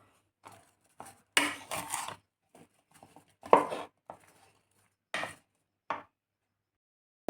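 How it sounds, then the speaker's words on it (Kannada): Chili powder and spice powder being mixed for hog plum pickle, heard as intermittent bursts of scraping and clinking from a spoon against a bowl, close and fairly clear with short pauses between strokes. "ಇದನ್ನು ಎರಡನ್ನು ಹಾಕಿ ಚೆನ್ನಾಗಿ ಮಿಕ್ಸ್ ಮಾಡ್ಕೊಳ್ಳೋಣ"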